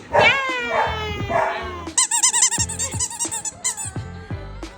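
A voice speaks briefly, then a squeaky toy dog lets out a quick run of high, yappy electronic barks in short bursts.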